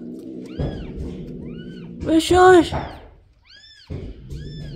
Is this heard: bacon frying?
no